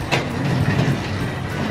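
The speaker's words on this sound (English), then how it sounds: "I like your train set." A child's toy train set runs close by, giving a continuous rattling, clattering rumble with small clicks, fairly loud and steady with no voices over it.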